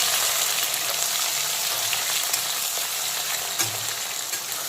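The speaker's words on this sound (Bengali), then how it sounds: "এখন বেশ কিছুক্ষণ পেঁয়াজ কুচিটাকে হালকা বাদামি কালার করে ভেজে নেব" Chopped onions with whole garam masala and cumin fry in oil for a mutton curry, giving a soft, continuous sizzle with faint stirring scrapes and no voices.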